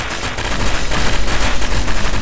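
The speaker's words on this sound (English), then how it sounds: "You're getting shot at, bro." Rapid automatic gunfire in the video game SCP: Secret Laboratory, a loud, continuous burst of closely spaced shots rattling without pause.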